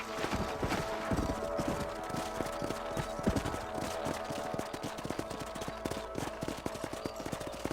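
Horse hooves clip-clop at a steady trot across a ranch in Red Dead Redemption, a rhythmic run of close, crisp hoof strikes over a faint game background.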